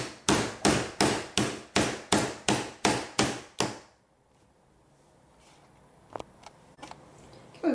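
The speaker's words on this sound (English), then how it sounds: "now we're ready to start hammering them into the leather" Tack points hammered into a leather knife scabbard: about ten sharp, evenly spaced hammer strikes in a quick steady rhythm, close and loud, then near silence with a few faint taps and knocks.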